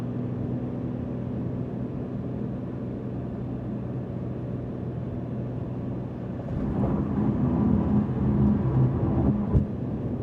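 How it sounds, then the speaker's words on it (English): Steady low road and engine drone inside the cabin of a 2025 Porsche 911 Carrera T at highway speed, with the rumble swelling somewhat louder in the second half and no talking. "let me quiet up for a second, listen to the cabin volume at these speeds"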